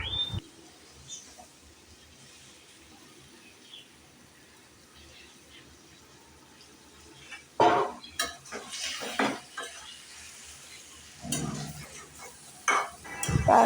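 Fish head added to spice masala in a pan, clattering utensil and stirring scrapes in bursts after a quiet stretch, with a faint sizzle beneath and some background noise.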